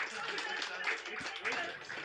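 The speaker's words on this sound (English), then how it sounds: "Okay, round of applause for Texas for showing support." Comedy club audience applause at a stand-up show in Lviv, a short patch of scattered clapping with a voice talking over it.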